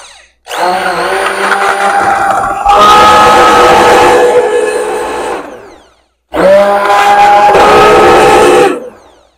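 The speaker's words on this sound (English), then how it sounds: "I'm gonna take it over to my stick blender and just zhuzh it up in there" A stick blender whirs loudly inside a jar of homemade coffee creamer with sweetened condensed milk and milk, running in two close bursts separated by a brief pause.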